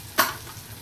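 Spices (turmeric, red chili powder and asafoetida) dropped into a hot pan for a Maharashtrian green pea usal give a single short sizzle that flares up loudly and then fades away quickly.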